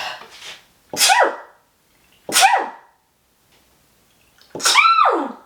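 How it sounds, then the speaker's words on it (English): Three sharp sneezes in a row, close and loud, each a sudden burst with brief pauses between them. "Oh, I'm going to sneeze."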